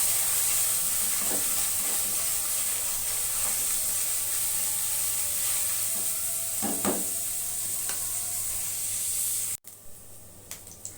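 Garlic frying in hot oil in a pan, a loud, steady hiss and sizzle with a few stirring clinks, cutting off abruptly near the end into quieter sizzling and scattered taps.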